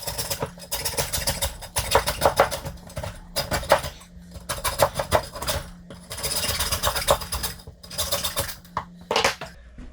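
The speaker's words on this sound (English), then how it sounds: "all I'm going to do is follow this same line with the saw and cut the ribs free" A hand saw works through pork spare ribs to free them from the loin, a close, rhythmic rasping of repeated strokes with brief pauses between runs.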